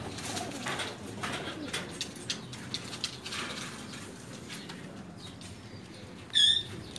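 Pakistani flying pigeons coo softly on a rooftop in a continuous, near murmur, and one louder, sharper call comes near the end.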